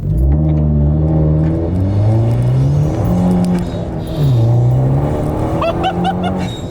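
Abarth 595 hatchback with a TD04 turbo upgrade accelerating hard, its engine note climbing steadily through the gears in a loud, continuous drone heard from inside the car.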